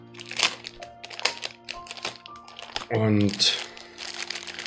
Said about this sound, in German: Da muss ich jetzt natürlich schauen, ob ich die ordentlich ausgepackt kriege